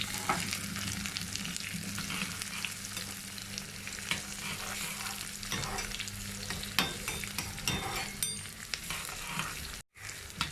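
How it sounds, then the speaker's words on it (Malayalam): Shallots and green chilies sizzle and fry in a pan for jackfruit puzhukku, a steady hiss with a spatula clinking and scraping now and then, close up and with no talking. "നമുക്ക് അതിനകത്തോട്ട് ചെറുള്ളി ഇടാം, പച്ചമുളകും കൂടെ ജസ്റ്റ് ഒന്ന് ഇളക്കി കൊടുക്കാം"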